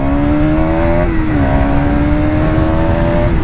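KTM Duke motorcycle engine running steadily while riding after a service, a loud, close drone with a slight dip in pitch around a gear change, then holding steady, with no talk.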